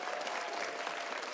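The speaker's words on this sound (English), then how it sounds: "Big round of applause for all of them" Applause from a student conference audience after a poetry reading, a dense, even wash of many hands clapping together, steady and fairly close throughout the brief moment.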